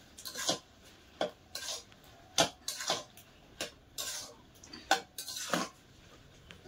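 Spoon stirring food in a metal pot, a series of sharp scraping clinks in an uneven rhythm, close and fairly quiet, with no talking.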